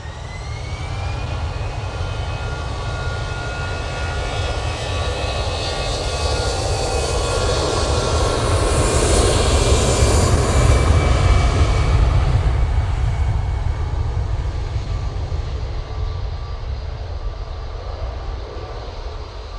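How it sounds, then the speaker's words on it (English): An Air Transat Airbus A321LR jet arriving from Toronto at Manchester Airport passes with a deep, sustained engine roar and whining tones that swell to a peak midway, then slowly ease off, loud and unaccompanied by voices. "Air Transat coming in from Toronto using A321 LR"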